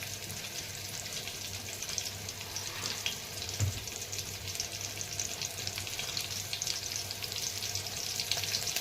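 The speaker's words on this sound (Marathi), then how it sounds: "लसूण आता छान लाल व्हायला लागले परतायला" Cumin, chopped red chili and garlic fry in hot oil for palak khichdi, a steady close sizzle with faint stirring and occasional small pops.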